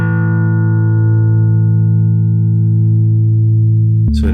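A single sustained bass guitar note through a Chase Bliss CLEAN pedal rings out alone, rich and steady, growing darker and boomier as it decays over several seconds, then is cut off by a short burst of new attack.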